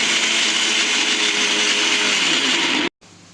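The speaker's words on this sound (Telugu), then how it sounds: "నాలుగు పచ్చి కొబ్బరి ముక్కలు మిక్సీ వేసుకొని కొబ్బరి రెడీ చేసుకుందాం" A loud, steady whirring of a mixer grinder grinding fresh coconut pieces, running continuously, then abruptly switching off, leaving quiet room noise.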